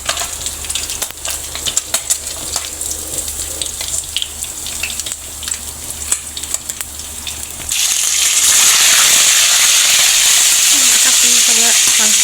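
Fish frying in hot splattering oil in a home kitchen, a steady loud sizzle that swells sharply into a fierce crackling roar partway through, close and continuous with no voices.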